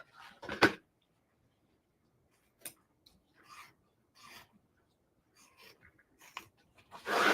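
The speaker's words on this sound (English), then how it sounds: "these curved scissors allow you to trim and not cut your stitches" Curved embroidery scissors trimming stitches on a quilting project, heard as a handful of short, faint snips and rasping rubs spaced irregularly across quiet pauses, close up.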